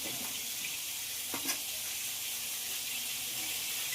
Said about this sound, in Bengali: পেঁয়াজ রসুন খুব ভালোভাবে ভাজা হয়ে গেছে।